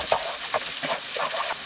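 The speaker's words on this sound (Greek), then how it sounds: "Το ανακατεύουμε όλο μαζί και αφήνουμε να μαρατεί το κρεμμύδι." Onion being stirred and softened in a pan for pastitsio, with repeated scraping stirs over a steady soft sizzle, close and alone.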